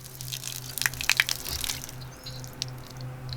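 Water runs out of a rain barrel through a shutoff valve fitted on it, a low-pressure splashing trickle with scattered drips over a steady low hum, fading toward the end.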